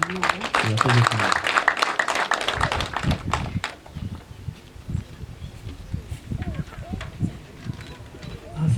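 Applause for the elders at a Rwandan wedding ceremony, a burst of clapping with loud talk near the start, then a steady patter of claps and crowd noise running to the end.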